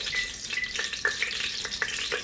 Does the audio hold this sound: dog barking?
no